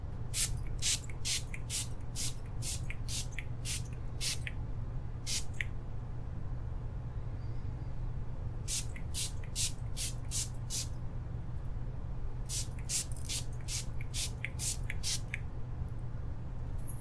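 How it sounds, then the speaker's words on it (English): A rose and vetiver mist is sprayed in bursts of quick, crisp pumps, each group of several sprays separated by pauses, close up over a steady low background hum. "So now I'm going to give you a little light mist one more time with this lovely rose and vetiver mist."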